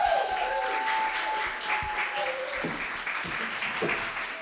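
An audience at a book fair reading event applauds a performer, steady crowd clapping with scattered voices and a few clinks, fairly close and continuous throughout.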